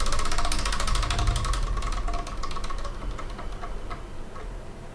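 Wheel of Manga prize wheel spun hard, rattling off rapid ticks that slow and spread out as it winds down, loud at first and fading, no talk.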